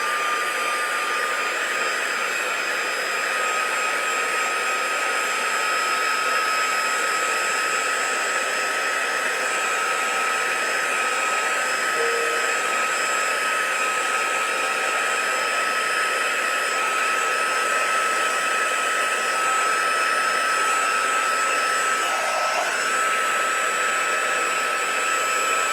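A hair dryer blows steadily over sparkly mixed media paint, a continuous close, even whirring hiss that runs unbroken for the whole stretch with no talk.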